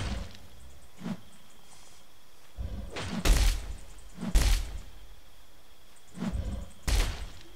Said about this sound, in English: That's the sound of my tail crushing their bones.